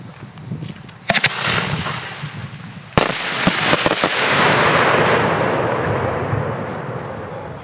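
Two 100mm salute firework shells burst outdoors, sharp loud reports about two seconds apart, the second followed by a long rolling, crackling rumble that slowly fades.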